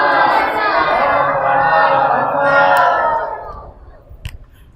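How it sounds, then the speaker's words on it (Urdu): A large congregation at ImamBada Jannat Maab, Lucknow, calls out a religious chant in unison, a full roar of many voices that holds steady for about three seconds, then drops away into quieter murmurs and a couple of small knocks. "ایک اور نعرے صلوات حضرات پڑھ دیں."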